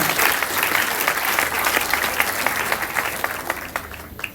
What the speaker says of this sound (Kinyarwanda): amashyi kumvikana